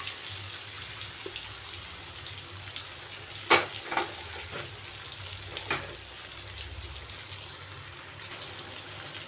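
Marinated elephant foot yam slices fry in oil over a lowered flame, a quiet steady sizzle broken by a few clicks and scrapes of the pan, with no voices.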